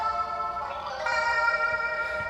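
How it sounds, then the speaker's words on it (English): An instrument loop run through delay and chorus pedals on a pedal board: a sustained, shimmering tonal wash with wavering harmonics and echoing smear, steady and fairly loud. "And I had some delay and chorus on my pedal board as well."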